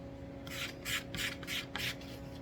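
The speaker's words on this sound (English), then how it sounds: "I'm just going to take some sandpaper here and just kind of sand the ends a little bit." Hand sanding of wooden axle ends for a toy Flintstone car with sandpaper, four or five short raspy back-and-forth strokes in a steady rhythm, close up over a faint electrical hum.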